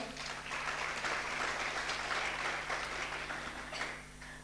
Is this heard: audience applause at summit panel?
yes